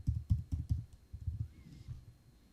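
A typewriter typing effect added in a video editor gives a quick burst of about a dozen soft clicking keystrokes, close and fairly quiet, then a fainter tail.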